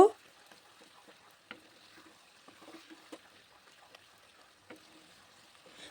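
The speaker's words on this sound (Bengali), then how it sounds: "এই পর্যায়ে দেব দু পিস এলাচ আর একটু দারচিনি দিয়ে সব কিছু ভালোভাবে কষিয়ে নেব" Chicken skin fries quietly with cardamom and cinnamon in a pan, a faint low sizzle with scattered soft scrapes and taps of stirring, close and sparse, with no voice over it.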